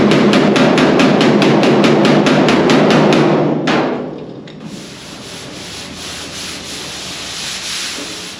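Hammer tapping high spots on a car body panel during dent pulling, a fast, even run of loud metallic strikes that stops after a few seconds, then only quiet background remains.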